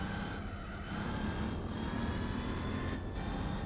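Mercedes-Benz E55 engine in Gran Turismo 4 holding high revs around 4,000 rpm, a steady buzzing drone like an angry bee that runs on continuously at a loud, even level with no talk.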